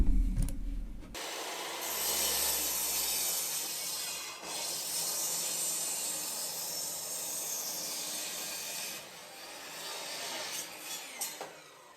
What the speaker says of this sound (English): while cutting these 4x4s, an awful lot of sawdust is filling the air